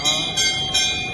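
A temple bell rings in three quick successive metallic strikes, each with a bright ringing attack that overlaps a sustained shimmering hum, close and fairly loud.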